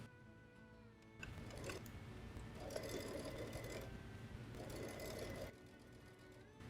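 A sewing machine stitches the side seam of a fabric tote bag in two steady runs of rapid mechanical chatter separated by a short pause, close and quiet, with a soft motor hum throughout.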